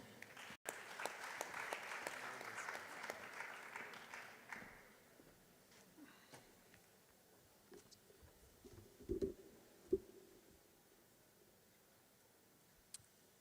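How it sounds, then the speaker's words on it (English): A conference audience at an economic outlook forum gives faint, distant applause for a few seconds. It dies away into a quiet hall with scattered small knocks and rustles. "Please, another round of applause for him."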